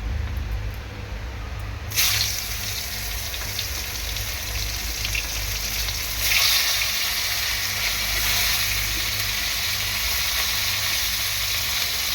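Bitter gourd (uchhe) frying in oil in a pan, a steady close sizzle and hiss that swells briefly twice as pieces shift, continuous throughout with no talking.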